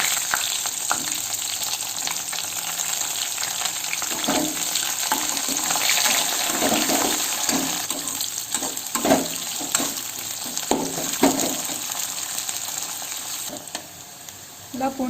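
Chopped onions frying in hot oil in a pan with bay leaf and whole spices, a steady dense sizzle that continues throughout, close and fairly loud, with occasional scrapes and stirring clatter.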